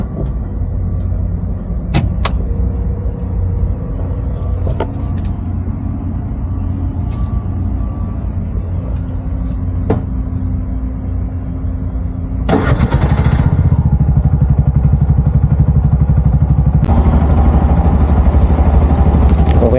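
A Bajaj RE auto rickshaw engine warming up idles with a steady low rumble, knocks and clicks sounding over it, then revs louder and harsher partway through.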